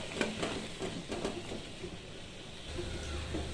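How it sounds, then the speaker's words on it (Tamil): Chopped chow chow (chayote) stirred and sautéed in a pan, a soft steady sizzle with faint scraping and light clinks of a spoon against the pan, quiet and close with no voices. "இப்போது கட் பண்ணி வச்சுருக்க சவுச்சவு சேர்த்து ஒரு நிமிஷம் நல்லா கிளறி விட்டுக்கலாம்"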